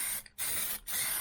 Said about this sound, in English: I'm just going to spray these with some zinc primer.